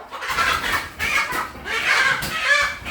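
Native chickens from Bulacan cluck in short repeated bursts, close and fairly loud, with no talking over them.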